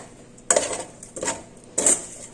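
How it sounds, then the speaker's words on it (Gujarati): A spoon scrapes and clinks against a pan while lemon juice is mixed into batata poha, three distinct metallic strokes at a relaxed pace, fairly close, with no talk. "બસ પ્રોપર રીતે લીંબુનો રસ છે મિક્સ કરી દેવાનો"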